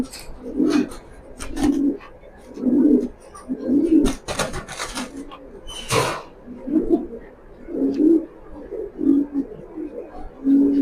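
Racing pigeons coo steadily in a rhythmic series of soft, low throaty calls roughly every second, close by, with a few sharp rustles and flutters in between.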